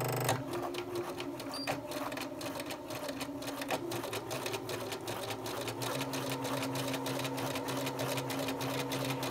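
A sewing machine runs steadily, stitching a seam on a dress bodice piece, its fast mechanical whir continuous and close throughout with no talk.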